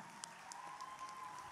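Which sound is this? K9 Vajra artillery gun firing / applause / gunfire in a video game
applause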